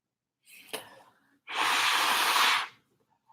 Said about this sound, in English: people love when I blow my nose online